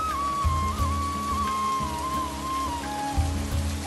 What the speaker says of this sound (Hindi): तेज बारिश शुरू हो जाती है